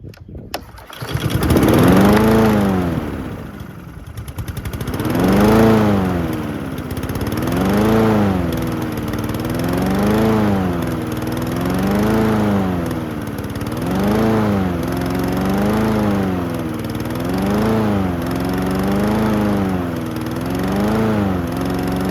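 A Husqvarna HU700H riding lawn mower, left sitting for over three years, cranks and catches, then runs with a loud, close engine that surges up and down in a steady rhythm, hunting against its governor roughly every two seconds.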